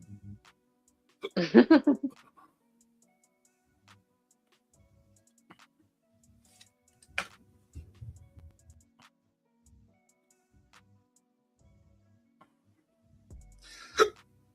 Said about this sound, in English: I got hiccups like crazy.